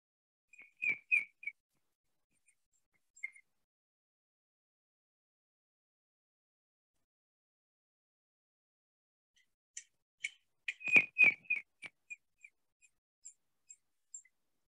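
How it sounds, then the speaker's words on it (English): A red-crested korhaan calls in dry semi-arid scrubland, first a short burst of sharp clicks, then a longer series of rapid clicking notes that spaces out and slows, clear against silence. "I mentioned the red-crested coran, this is going to be a familiar sound."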